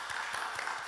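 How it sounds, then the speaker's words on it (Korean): A congregation claps for the praise team at a church's Holy Week special dawn prayer service. The applause comes as one brief, steady burst of many hands at moderate level. "찬양으로 수고해 주신 우리 천사 예생 찬양단 축복의 박수 해줍시다."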